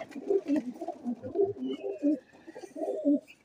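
A pigeon coos in soft, repeated throaty phrases at a rooftop loft in Lahore, fairly close and quiet, with a faint higher chirp or whistle in the background.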